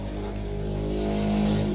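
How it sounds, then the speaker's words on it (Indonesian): Loud, close engine drone of village racers' motorcycles passing, a steady rising roar with strong low harmonics and no voices. "Teman-teman hiraukan aja ya suara kendaraan yang besar-besar itu, para pembalap-pembalap di sini, pembalap-pembalap kampung."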